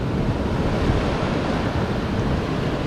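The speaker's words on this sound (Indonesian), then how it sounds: "Ini ombaknya" Sea waves at Lhoknga beach in Aceh make a steady, heavy roar of surf with wind buffeting the microphone and no voices.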